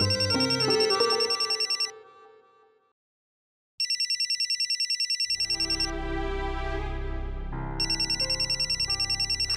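A mobile phone plays a loud looping electronic ringtone with bright repeating tones. It stops once for a brief silence, then starts again and carries on alone with a fuller musical backing.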